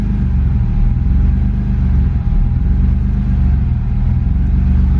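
A BMW E30 fitted with a swapped M50 engine idles steadily after a quick start, a loud, close, even rumble with a faint hum and no talk over it.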